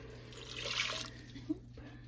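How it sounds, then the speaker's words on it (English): Stock poured into an Instant Pot for gluten-free chuckwagon chili, a soft liquid splash and trickle that swells and fades over about a second and a half, with a small clink near the end. "So that was about a cup and a half of stock."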